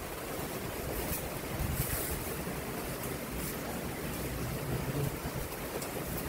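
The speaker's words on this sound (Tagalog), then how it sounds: "Bumabagyo pa." Typhoon weather at a beach resort in Laiya, Batangas, with a constant broadband roar of wind and surf, waves and gusts blending into a steady dense wash that buffets the microphone, with no voices.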